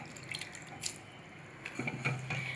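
Water drips and trickles from soaked red poha being drained in a kitchen, quiet splashing that swells into a fuller pour near the end.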